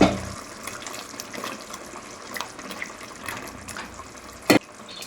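Fish being rinsed in a basin of water to wash out grit, with steady soft splashing and trickling throughout and a sharper splash near the end.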